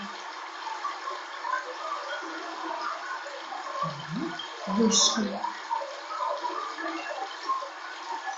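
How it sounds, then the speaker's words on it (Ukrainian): Babbling stream water played as a listening exercise in a children's music lesson, a continuous bright gurgle and trickle with a short spoken word from a voice partway through. "давайте послухаємо, як звучить струмочок"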